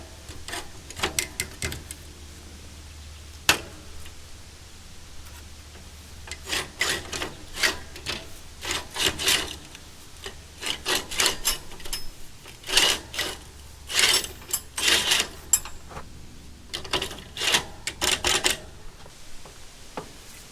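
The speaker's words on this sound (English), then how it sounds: "And now we work the sickle back in." A sickle bar is worked back into a Farmall Super M's International Harvester sickle mower, making irregular bursts of metallic rasping, sliding and clanking scrapes, close and loud, separated by quieter pauses without speech.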